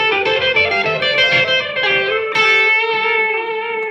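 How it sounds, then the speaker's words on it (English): An electric guitar runs through a delay effect set to a high mix, so the played notes are followed by repeats nearly as loud, smearing into a dense, ringing wash of echoing tones. "So now I've got all these delayed notes repeating, and as loud as the notes I'm playing"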